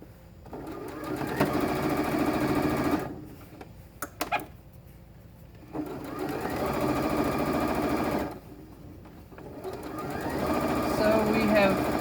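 A sewing machine stitches a quilt strip across seamed areas of a kitten quilt panel in three steady bursts separated by short pauses, with a voice talking between and over the runs.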